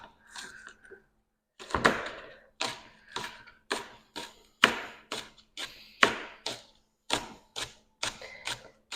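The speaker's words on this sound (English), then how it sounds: "Green onions and scallions, and just thinly slice them as well." A knife thinly slices green onions on a cutting board, a quick, even series of crisp chops after a brief pause, close and clear.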